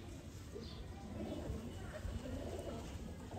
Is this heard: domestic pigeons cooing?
yes